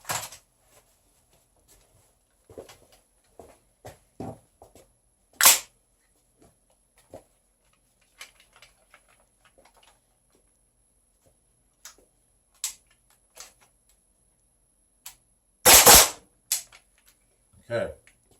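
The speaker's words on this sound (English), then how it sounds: "Okay, much better double tap with the gas blowback." An airsoft gas blowback rifle fires double taps, giving sharp paired cracks spaced apart with quiet gaps between them and a few faint clicks of handling.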